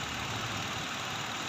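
A 2023 Mitsubishi Mirage G4 engine idles with an even, close, hissing hum, heard alone for a moment.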